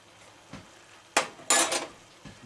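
Salt and sugar being mixed into a simmering liquid in a pot, heard as a few quiet clinks of a utensil followed by two louder metallic scrapes and clanks against the pan, with no talk.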